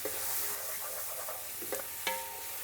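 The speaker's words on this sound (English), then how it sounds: "And I'm just going to give that a stir around." Minestrone soup with pepper being stirred in a pot, a soft sizzling bubble with a few scraping spoon knocks, brief and close.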